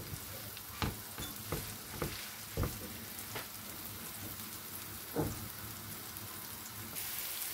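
Eggplant frying in oil with salt, a soft continuous crackle and sizzle close by, punctuated by a handful of sharp spatula taps and scrapes against the pan.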